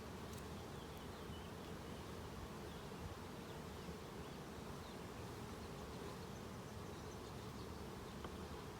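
Honey bees hum inside an open hive during a routine inspection, a steady, dense drone that stays close and unbroken with no voices over it.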